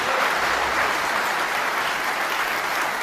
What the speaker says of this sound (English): that applause